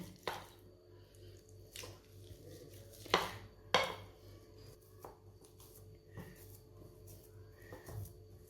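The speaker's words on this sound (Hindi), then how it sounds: "आलूओं को अच्छी तरह मैश कर लेंगे।" Boiled potatoes being mashed in a kitchen bowl for a Ramzan roll recipe, soft squishing and scraping presses at an irregular pace with a few louder clinks of the utensil against the bowl, faint and close.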